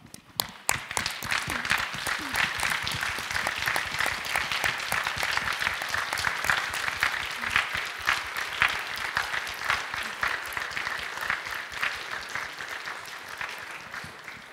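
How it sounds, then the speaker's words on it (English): Sustained, full applause from a large audience at a doctoral graduation ceremony, dense crisp clapping that rises quickly and holds steady for the whole stretch, with no speech over it. "I'd like you to stand up and give a warm applause to your friends and family that are here today."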